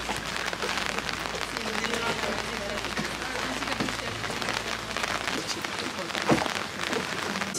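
Rain falls steadily on hard surfaces in Venice, a dense continuous patter with a faint voice in the background.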